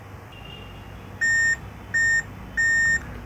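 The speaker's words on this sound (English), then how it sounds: "there is a beep on the cap" A multimeter's continuity beeper sounds against a capacitor on a Lenovo E480 (NM-B421) laptop motherboard with a no-power fault: three sharp, steady electronic beeps, each about a quarter to half second long, separated by short gaps over a quiet room hum.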